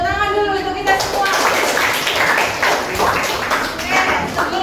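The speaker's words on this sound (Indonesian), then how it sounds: "tepuk tangan dulu untuk kita semua" A school class claps hands together in a lesson, a quick run of many close claps beginning after a brief pause and continuing under voices.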